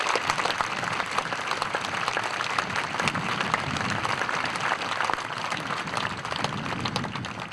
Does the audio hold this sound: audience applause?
yes